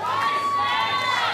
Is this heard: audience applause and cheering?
yes